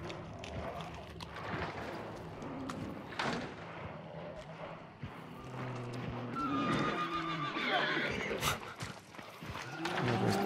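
A horse in the video game Hunt: Showdown neighs and whinnies loudly several times amid hoof clops and game noise, with brief speech in the background.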